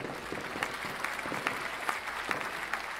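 Dense applause in the video game PlateUp!, a continuous patter of many hands clapping with small bursts, heard without any talking.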